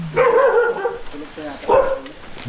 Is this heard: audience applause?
no